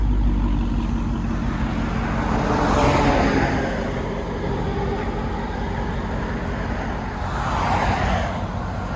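A 2021 Dodge Charger Hellcat Redeye fitted with a Borla ATAK cat-back exhaust drives past on a road, its engine note swelling as it nears, fading, then rising again with a second pass, heard from outside without voices.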